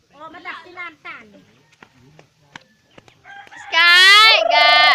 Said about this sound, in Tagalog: Ala, habulin niya na yung manok.